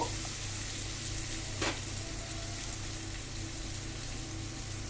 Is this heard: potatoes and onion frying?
yes